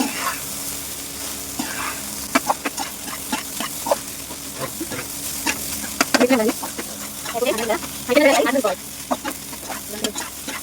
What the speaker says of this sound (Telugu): హై ఫ్లేమ్లోనే తిప్పుతూ ఉండాలి. ఈ అన్నానికి మొత్తం పట్టే విధంగా అయితే మనం తిప్పుతూనే ఉండాలన్నమాట.